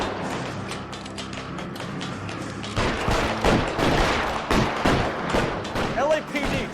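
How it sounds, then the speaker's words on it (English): Heavy machine gun fire in the video game L.A. Noire, dense overlapping bursts of shots that grow louder and more intense midway, with a voice speaking over the gunfire. "जबरदस्ती हो रही है फायरिंग यार."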